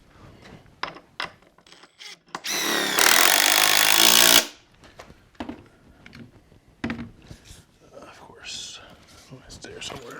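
Building a wooden picnic table, a power drill whirs loudly for about two seconds while boring pilot holes for lag bolts into wood, surrounded by quieter knocks, handling clatter and low talk.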